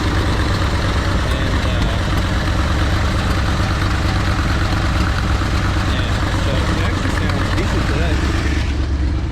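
An old, smoking Corvette engine with leaking exhaust gaskets idles loudly and steadily up close, a constant low rumble with a rough mid-range chug that never changes pace.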